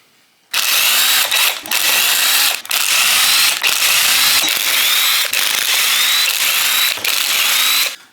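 A power tool whirs loudly in repeated bursts as it removes bolts from Panhead lifter blocks, each run lasting about a second before a brief pause, close and steady with no talk.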